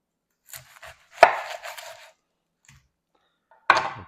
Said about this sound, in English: Next I'm going to cut the onion